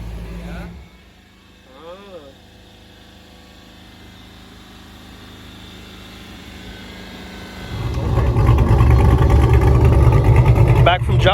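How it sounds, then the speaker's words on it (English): A tuned fifth-generation Camaro engine with upgraded cam and DOD delete idles with a low, lumpy rumble and clean chop. It is quiet at first, then grows louder and fuller near the end, with no talking. "Car sounds better. Idles a lot better. Nice, clean little chop."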